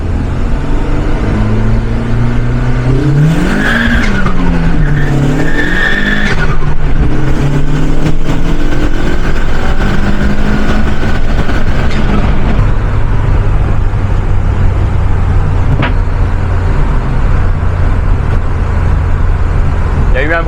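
A VW Golf accelerates hard on a track, engine tone rising through the gears with a shift before settling into a steady lower drone, loud and close throughout, with a voice talking over it.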